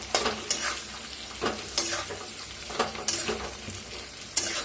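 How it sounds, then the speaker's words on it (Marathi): Green chillies (dabu mirchi) with leftover masala being stirred in a frying pan: a steady oily sizzle with sharp spatula scrapes and knocks every second or so, close up, with no talking. "आता चांगलं फिरवून घेऊया"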